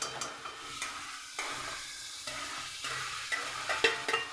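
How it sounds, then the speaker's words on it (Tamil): Tomato, ginger, mint and spices sauté in oil for a vegetable biryani, with a continuous close sizzle broken by repeated stirring strokes and occasional spatula scrapes against the pan; no talking. "தக்காளி, இஞ்சி, புதினா, மசாலா சாமான் எல்லாம் நல்லா வதக்கிற கட்டத்துக்கு"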